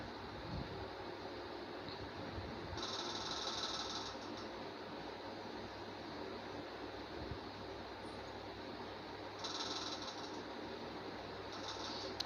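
An electric sewing machine runs in short bursts of rapid stitching on an old shirt, a faint mechanical whir that starts and stops over a low steady background hum.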